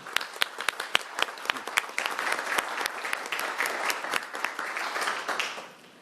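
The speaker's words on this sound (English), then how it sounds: "Round of applause, please." An audience at a Tacoma city council meeting breaks into applause: scattered, distinct claps at first that thicken into a steady wash of clapping, then fade out near the end.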